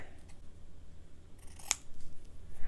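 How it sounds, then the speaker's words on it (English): Scissors cut through fabric for a Halloween ghost cross-stitch project, making one sharp crisp snip near the middle against quiet room noise. "So I'll cut this fabric, and then I'm going to cut each individual ghost out."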